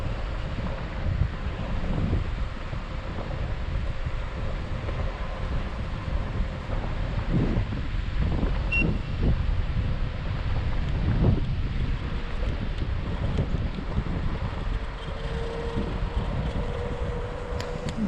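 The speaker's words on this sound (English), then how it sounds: "Dealing with a little headwind right now." Steady headwind roars across the microphone while riding a Hiboy S2R Plus electric scooter, a continuous low rumbling buffet that stays fairly even and close for the whole stretch, with no talking.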